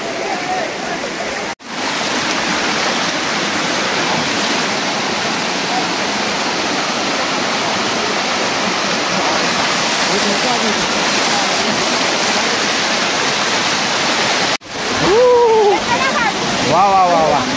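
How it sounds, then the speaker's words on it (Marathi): Rainwater pours down the stone steps at Korigad fort in a loud, continuous rush like a small waterfall, steady for most of the stretch, with a short break and a voice speaking briefly near the end. "वरून जे पावसाचं पाणी येतं ते या पायऱ्यावरनं जातं"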